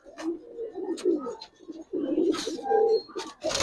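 Resting pigeons, a mix of Giribaz coloured and racing birds, coo in repeated low throaty phrases close by, several birds overlapping with short gaps between calls.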